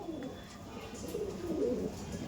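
Kaldom pigeons at a loft give soft, low cooing calls, a short murmuring sequence rising toward the end over a faint background.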